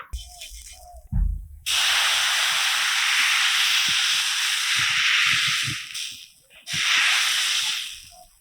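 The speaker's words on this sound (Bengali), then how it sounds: "পালংয়ের বেটাটা চাটুতে দেওয়ার সঙ্গে সঙ্গে কি সুন্দর বাবুল ছুটছে দেখো" Spinach dosa batter hits a hot griddle on a wood-fired stove with a loud, bright sizzle that swells and holds, then a second burst of hissing follows near the end.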